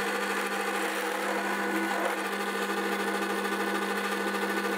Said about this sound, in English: The mirror will allow you to see the drill from the top as well as the side.